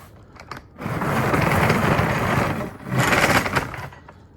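A unicorn step drill bit bores a hole in the car body of a 1955 Mercedes 300SL Gullwing replica. It gives two loud, close, steady whirring bursts separated by a short pause.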